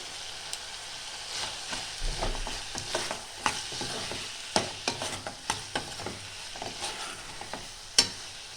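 Cauliflower chorchori being stirred in a pan: steady scraping and clinking of a spoon against the pan, with sharper knocks toward the end over a faint sizzle, close by and with no talk.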